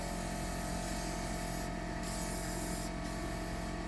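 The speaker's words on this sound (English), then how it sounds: "So I'm going to spray that over there." A continuous hissing aerosol air freshener spray, close and loud, with a couple of brief sharper bursts partway through.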